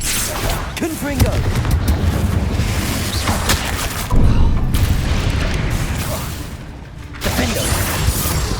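Hogwarts Legacy combat spells fire off as repeated booming blasts and bursts of the Confringo fire spell, loud and close, with sharp explosive hits amid continuous game-effect clatter.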